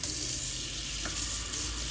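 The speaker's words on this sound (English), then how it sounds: "I'm just going to use some nice hot water, run it over top of them, thaw it out real quick." Hot tap water runs steadily over a bag of frozen sour cherries, a constant close hiss and splash throughout.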